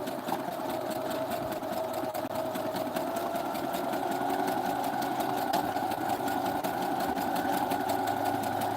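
A sewing machine stitches through layered paper and fabric, running continuously with a steady rapid mechanical whir and needle chatter, close and fairly loud, without pause or speech.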